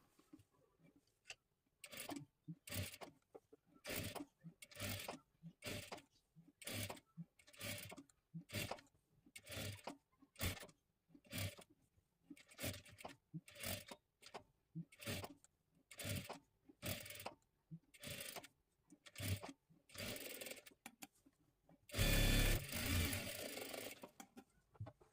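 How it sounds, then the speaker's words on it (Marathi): A sewing machine stitches a boat neck blouse in repeated short bursts of steady mechanical whirring separated by brief pauses, ending with one louder, denser burst. "आता इथे त्रिकोणी अशा पद्धतीने शिलाई देऊन घ्यायची आहे."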